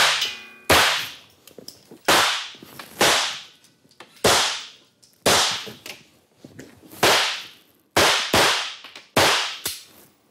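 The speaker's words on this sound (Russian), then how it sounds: "Стрельбу окончил." Nine sharp gunshots crack out one at a time at irregular intervals, each loud and followed by a brief decaying echo.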